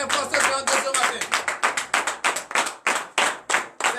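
Loud, rhythmic clapping from a congregation at a morning prayer service in Benin, crisp evenly spaced claps repeating quickly, with voices heard beneath.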